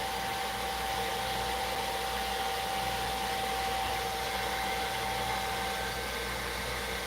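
A hair dryer on its cool setting blows over velcro rollers, a steady close whooshing roar with a thin constant whine, unbroken and alone for the whole stretch.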